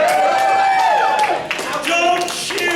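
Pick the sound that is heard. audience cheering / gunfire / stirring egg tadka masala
audience cheering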